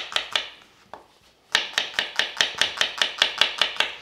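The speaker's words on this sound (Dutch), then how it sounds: "Dus dan ga ik eerst even snijden." A knife chops fresh lovage, chives and spring onion on a cutting board in a steady rhythm of crisp, close, evenly spaced strokes, sparse at first and then a run of about a dozen quick chops.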